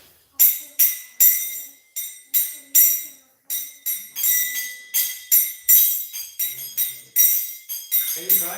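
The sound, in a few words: kartal hand cymbals being struck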